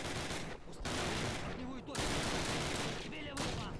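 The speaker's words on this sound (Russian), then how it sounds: "Кто стреляет откуда?" Video-game gunfire in Call of Duty, set in the WWII battle at Sainte-Mère-Église, France: dense, continuous bursts of rifle and machine-gun fire with brief dips, rather quiet overall, with a voice talking in places.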